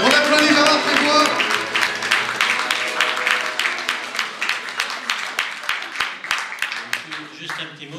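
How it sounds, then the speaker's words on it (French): An audience at an awards evening breaks into loud applause that starts as a dense burst of clapping and gradually thins out into scattered, individual claps over several seconds. "On applaudit Gérard Trébois."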